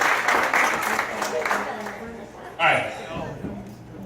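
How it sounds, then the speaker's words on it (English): Applause for Ashton at a wedding reception, a short burst of clapping from the guests that swells near the end, heard alongside talking. "Give it up for Ashton one more time."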